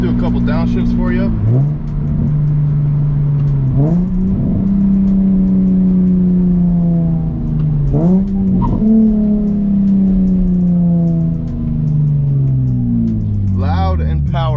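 A Nissan 350Z with a Flashark Racing Y-pipe single exhaust runs through several downshifts, its loud exhaust note jumping up in pitch with each shift and then easing down, close and continuous.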